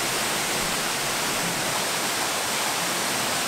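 A landscape waterfall roars as a steady, dense broadband rush of falling water, close and loud, continuous for the whole stretch with no voices over it.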